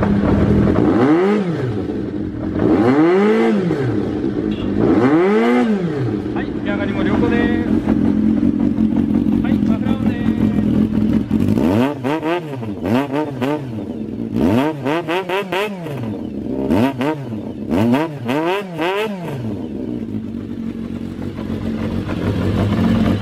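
Kawasaki Zephyr χ motorcycle with custom exhaust fired up at a dealership, its engine blipped in loud repeated revs that rise and fall, first a few spaced throttle pulls then a quicker burst of revving before settling to idle.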